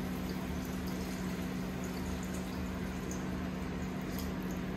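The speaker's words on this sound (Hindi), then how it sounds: "अब मैं इसके अंदर इतना पानी डालूंगी कि हमारी जो स्पेगेटी है वो उसके अंदर डिप हो जाए" Water poured into a pot of meat sauce for one-pot spaghetti, a steady low rushing and bubbling hiss that stays continuous and even throughout, nearby, with no talking.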